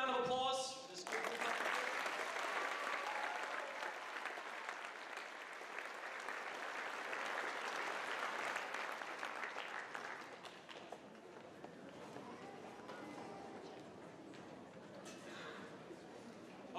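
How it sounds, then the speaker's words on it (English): An audience at a Christian school Christmas program claps for a performing group, full applause swelling for about ten seconds then thinning to scattered claps, with brief voices at the start and end. "one more round of applause for this group"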